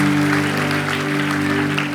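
A church congregation claps in praise, dense applause blending into a loud, continuous roar over a steady low hum, likely from music or sound system, lasting about two seconds.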